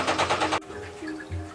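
A sewing machine stitches through six layers of fabric in a short, rapid, rhythmic burst that stops abruptly, leaving only a faint hum.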